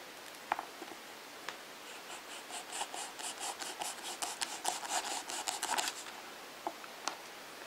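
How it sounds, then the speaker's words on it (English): A wine cork is sliced with a blade into pieces for a bracelet, giving a run of close, dry rasping strokes that build into a dense patch midway, framed by a few isolated clicks. "I will continue cutting up my cork until it is all cut up"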